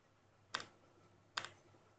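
Two quiet, isolated computer keyboard keystrokes about a second apart, close and crisp against a faint background hum.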